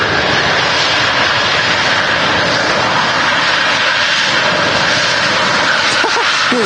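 A Ryanair Boeing 737 NG jet landing and rolling out at Manchester Airport gives a loud, sustained engine roar with a steady whine, close and dominant throughout, a faint voice briefly heard near the end.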